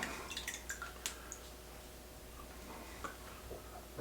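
Water dripped onto a freshly tumbled granite rock, producing a few faint, close drips and small wet ticks scattered over a quiet background.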